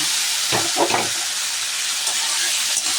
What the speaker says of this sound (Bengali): এবার দেখো যে চিকেনগুলো আমার সেদ্ধ করা ছিল সেগুলিকে ওর মধ্যে ঢেলে দিলাম